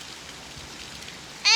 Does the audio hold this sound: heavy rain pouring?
yes